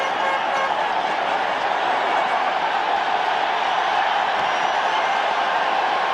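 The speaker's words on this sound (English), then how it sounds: "Listen to the applause for the Bear defense." A large stadium crowd at the 1985 NFC Championship between the Los Angeles Rams and Chicago Bears applauds and roars, a continuous, far-off wall of cheering that stays even throughout.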